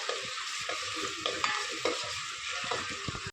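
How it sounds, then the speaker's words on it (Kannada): Onion and garlic frying in a pan for greens sambar, loud continuous sizzle with repeated scraping stirs of a spoon against the pan, close up and without talk. "ಬೆಳ್ಳುಳ್ಳಿನ ಹಾಕಿ ಚೆನ್ನಾಗಿ ಫ್ರೈ ಮಾಡ್ಕೋಬೇಕು"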